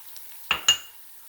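A spoon stirring whole garam masala spices with coriander powder and bay leaf in a pot for chana pulao, giving two quick, close clinks and scrapes against the metal over a faint background.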